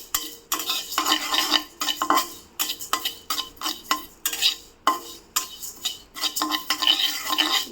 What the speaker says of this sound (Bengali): পাঁচফোড়নটাকে একটু টেলে নিব।